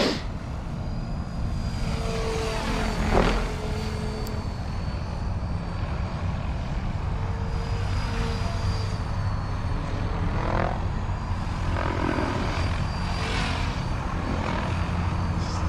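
A Freedom Piuma paramotor engine runs steadily at low RPM in flight, a continuous propeller drone with wind rushing past and occasional swells in pitch.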